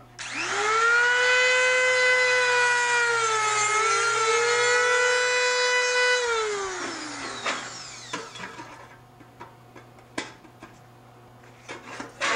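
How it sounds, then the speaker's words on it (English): A handheld rotary tool of a non-Dremel brand whines loudly at high speed for about six seconds, its pitch sagging and falling away as it spins down, followed by scattered clicks and small knocks. "This is just like a Dremel tool, even though it's not a Dremel brand."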